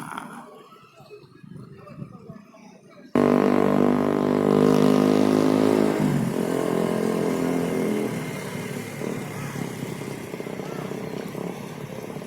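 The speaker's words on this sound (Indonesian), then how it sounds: "saat ini saya berada di atas salah satu kapal motor" A motorboat engine drones loudly nearby on a river mouth with strong currents, kicking in abruptly after a quieter start, then running at a steady roar that eases slightly later while a person talks over it.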